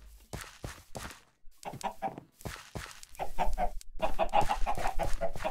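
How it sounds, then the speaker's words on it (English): Video game chickens clucking repeatedly in short bursts, close and clear, growing busier and louder toward the end with no talking. "look at all these chickens."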